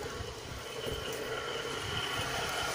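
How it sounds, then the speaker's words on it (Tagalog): A train rolls past at a distance, a faint, steady low rumble and hiss that holds evenly without any clear peaks. "Tren na naman."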